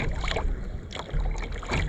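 A kayak is paddled on a lake at West Branch State Park in Ohio. Soft, rhythmic paddle strokes and water splashes repeat a few times amid faint wind, fairly quiet and with no talking.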